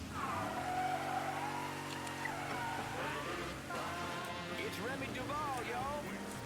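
A car in the video game Mafia 3 runs steadily with engine hum and a brief tire squeal, with no talk.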